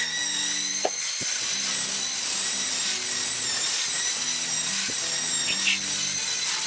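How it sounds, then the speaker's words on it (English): A circular saw plunges into sheet metal ductwork in the field, a loud steady high whine with repeated grinding bursts as the blade bites, close and continuous with no talking. "line your circular saw blade up with your marks on the back and plunge that"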